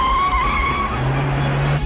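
A car chase from the 1987 film Innerspace, with a steady car engine roar and a high squealing tone, loud and continuous for about two seconds.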